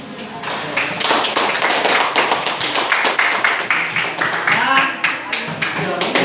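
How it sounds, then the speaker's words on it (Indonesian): Classroom audience clapping for three groups, a close, brisk run of many overlapping hand claps of even loudness, with a voice speaking over it. "mari kita sama-sama beri aplaus untuk ketiga kelompok"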